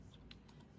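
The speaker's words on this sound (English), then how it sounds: "So we're typing that on our keyboard here." Soft keystrokes on a computer keyboard, a handful of quick taps in a short burst, quiet and close.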